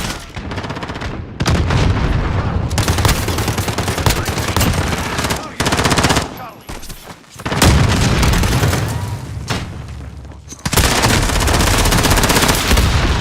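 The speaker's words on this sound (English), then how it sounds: "Bang, another one with the grenade" Loud, dense gunfire and a heavy grenade blast from a video game fill the scene in long sustained bursts, broken by short pauses, with faint talk underneath.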